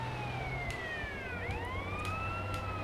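A fire truck siren in the video game GTA San Andreas wails continuously, its pitch sweeping down and back up, over steady engine and road rumble.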